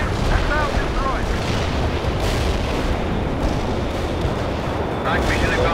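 Explosions and artillery rumble from the World in Conflict strategy game, a dense continuous roar of booms and blasts in a tank battle, loud and unbroken throughout.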